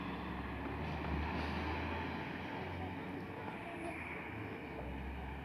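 Fimi X8 SE drone flying with the wind, its motor whine buried in heavy wind rumble and microphone buffeting, steady and moderately loud throughout.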